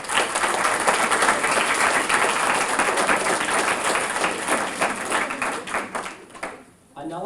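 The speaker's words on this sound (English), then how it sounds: "let's give all of our competitors one last round of applause" Audience applause closing a debate series event, a full steady round of clapping, with what sounds like faint voices beneath it, dying away near the end.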